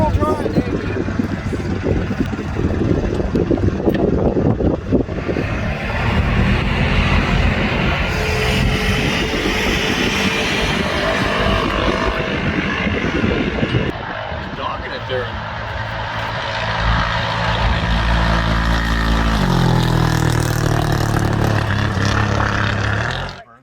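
Side-by-side off-road vehicle driving in 4-wheel drive over washboard dirt roads near Los Barriles, Baja California, a loud continuous engine drone with rattling and shifts in pitch as it moves, with someone speaking over it.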